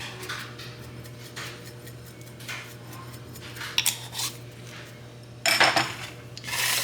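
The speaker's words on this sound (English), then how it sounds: "I will just take a spatula and I will just start mixing this together until it creates a dough." A spatula mixes dough in a bowl. Soft scraping strokes are followed by a few light knocks and clinks against the bowl, and there is a louder clattering burst near the end over a faint steady hum.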